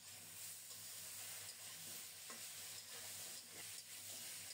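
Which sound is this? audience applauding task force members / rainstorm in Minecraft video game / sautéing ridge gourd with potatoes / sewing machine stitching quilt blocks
sautéing ridge gourd with potatoes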